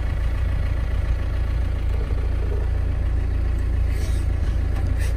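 A Mahindra Roxor's engine idles steadily, a low, even rumble holding at constant loudness close by, with no voices over it.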